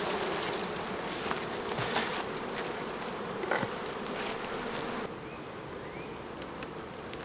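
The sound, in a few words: honey bees buzzing around an open hive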